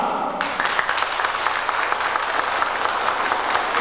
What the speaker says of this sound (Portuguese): Eu gostaria que vocês aplaudissem esta moça